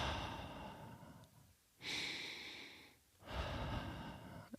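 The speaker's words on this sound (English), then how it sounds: "So you're just breathing." Slow, deep breaths during a meditation session, with two long, airy inhale-exhale swells rising and falling at an unhurried pace, fairly quiet and close, with no talking.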